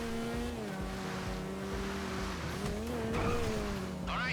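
Engine roar of a speeding car in GTA V Online during a Diamond Casino heist, a loud, steady drone that rises and falls in pitch as it accelerates, with tires squealing and skidding in bursts.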